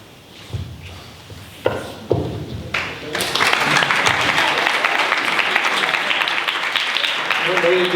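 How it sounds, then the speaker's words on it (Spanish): Audience applause at a political dialogue event, a few knocks and thumps first, then dense clapping from the crowd breaks out and holds steady, fairly loud and close, to the end. "aplauso"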